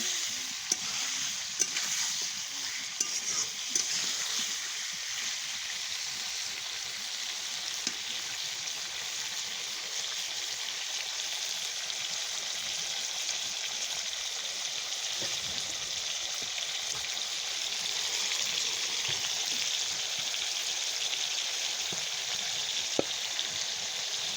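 Chicken legs frying with spices in a pan, a loud, steady, crackling sizzle that runs unbroken throughout, with occasional faint scrapes of stirring.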